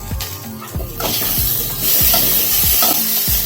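Coconut and bell pepper sizzle loudly in a pan while a spatula stirs them for chutney, with steady scraping strokes over a continuous frying hiss.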